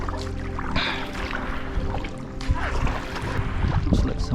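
A kayak paddle dips and swishes through water in a close, irregular rhythm, with soft splashes and trickles and faint wind throughout.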